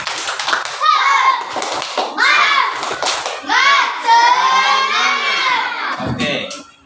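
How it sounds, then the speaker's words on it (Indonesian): A class of fourth-grade children performs a spirit clap, loud young voices shouting together in rhythm with a few scattered claps throughout. "tepuk semangat."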